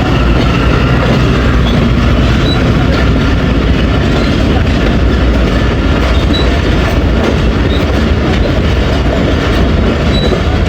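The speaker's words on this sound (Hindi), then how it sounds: "लूप लाइन से हमारी ट्रेन भी पास हो रही है" A passenger train rolls along the loop line at a station stop in Pakistan, its wheels clattering steadily and loudly with a constant rumble and faint metallic squeals, heard continuously from close by.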